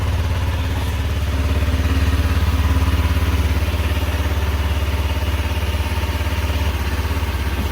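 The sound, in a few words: outboard boat engine running during weekly start check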